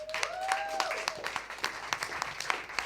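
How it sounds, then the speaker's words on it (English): Applause fills the room at the close of a political meeting on Palestinian resistance and international solidarity, a fairly soft, steady clapping from a modest crowd, with a voice briefly heard at the start. "one final big round of applause for Natalie, Issa, Huda and Asa"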